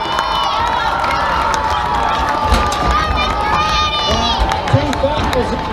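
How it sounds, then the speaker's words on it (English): An audience at a high school senior day event cheers loudly in a sustained, dense roar of crowd noise, with shouts and whoops rising over the din. "Let's give all of our parents a big round of applause for this sacrifice."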